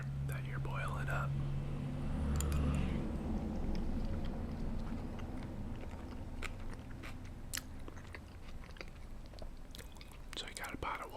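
Homemade lasagna being eaten close to the microphone, with soft wet bites and steady chewing in a quiet room. Someone whispers early on, followed by irregular clicks and smacks of mouth sounds.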